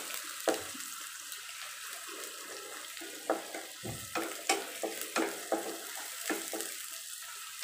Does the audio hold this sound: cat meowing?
no